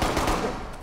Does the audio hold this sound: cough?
no